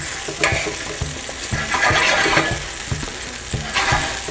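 Coconut cream curry is stirred in a hot pan. A utensil scrapes and swishes in a regular rhythm, with a low sizzle running steadily underneath and no talking.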